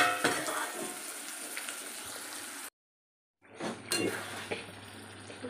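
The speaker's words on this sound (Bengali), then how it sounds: "দেখো কষানো হয়ে গেছে এই আলুটা" Potatoes and onion fry in a pan with a close, steady sizzle and occasional stirring clatter; the sound cuts out briefly to silence midway, then the frying resumes.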